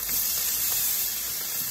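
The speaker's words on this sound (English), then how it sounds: "Let it fry up a little bit." Shrimp frying in a hot greased pan gives off a steady, loud, close sizzle with a constant hiss and no talk.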